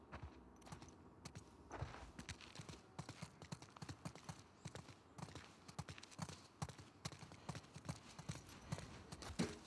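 Horse hooves clip-clop at a steady walking pace in the video game The Last of Us Part II, a fairly faint, continuous rhythm of dense hoofbeats lasting about ten seconds, with no talking.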